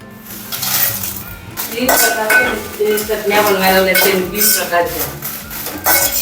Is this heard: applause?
no